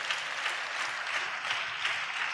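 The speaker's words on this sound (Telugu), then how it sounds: "చప్పట్లు కొడుతూ దేవునికి స్తోత్రాలు చెప్దాం" A church congregation clapping in praise, a dense, steady wave of many hands at a moderate distance, with no voices over it.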